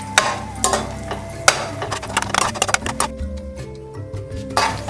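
Cashews frying in hot ghee for carrot halwa, a bright crackling sizzle broken by sharp metallic clinks and scraping stirs against the pan, loud and close, with the sizzle thinning out toward the end.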